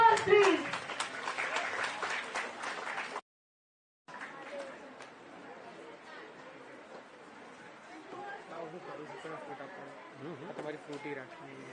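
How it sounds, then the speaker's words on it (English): Audience applause and crowd chatter at a school outreach event on India's Aditya L1 solar mission, as school participants step onto the stage; loud clapping first, a brief dropout, then softer hubbub with voices murmuring. "A huge round of applause"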